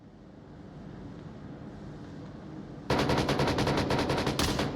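Rapid bursts of automatic gunfire erupt after a stretch of low windy ambience in a tactical shooter video game match, loud and fast-paced near the end.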